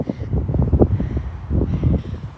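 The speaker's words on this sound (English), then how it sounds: "And it is windy." Strong gusty wind in a wind storm buffets the microphone in uneven surges, with loud low rumbling bursts that rise and fall over a couple of seconds.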